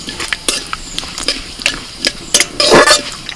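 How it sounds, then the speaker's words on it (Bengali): Cumin and mustard seeds sizzle in a little hot white oil in a kadai, heard up close as quick crackling pops and spits in irregular bursts, growing denser toward the end. "তেলের মধ্যে দিচ্ছি 1 চামচ গোটা জিরে"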